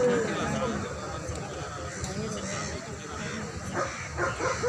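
Dogs barking amid a busy outdoor dog show, with a public address announcer and crowd chatter filling the background; the barks are scattered and partly masked by the talk and general noise.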